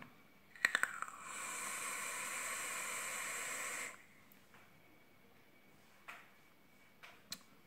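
An e-cigarette dripper atomizer with 80 VG liquid gives a few sharp clicks, then a loud, steady vapour hiss lasting about three seconds that cuts off abruptly, followed by quiet with faint clicks.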